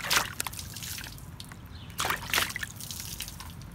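Water trickles and drips in a shallow pool inside a Mario video game, with scattered splashy bursts over a faint running background.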